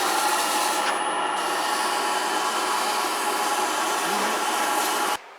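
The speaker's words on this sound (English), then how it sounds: "Little sanding going on here." Steady, close abrasive rasp of sandpaper against a large magnolia wood bowl spinning on a lathe, a continuous whirring scrape that stops abruptly at the end.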